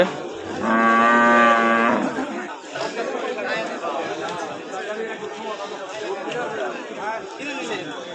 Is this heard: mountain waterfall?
no